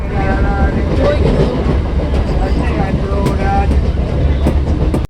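Loud, continuous rumble and rhythmic clatter of a moving, crowded train, with a dense murmur of many voices filling the carriage.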